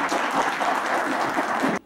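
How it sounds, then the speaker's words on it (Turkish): Brief burst of audience clapping at a business meeting, dense and even, cutting off abruptly at the end. "Başkanımız Sayın Halil Coşkun Beyefendi alkışlarınızla sahneye alıyorum efendim"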